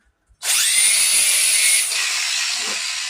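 A power tool grinds down welds on a custom metal canopy, starting abruptly in a loud, close, steady hissing whine that holds for a couple of seconds before easing slightly in pitch and level, running on alone.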